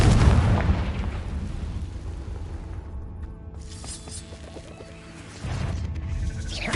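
Confringo blasting spell in Hogwarts Legacy sets off a loud booming explosion at the start, a quieter rumbling stretch follows, and a second heavy blast lands near the end.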